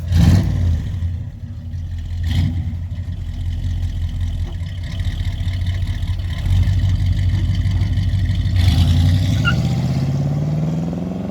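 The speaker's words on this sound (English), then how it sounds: "We'll just listen to this car burble off." A 1969 Ford ZC Fairlane 500 with a 351 V8 idles with a loud, steady, close burble, then the engine note swells and rises as it pulls away.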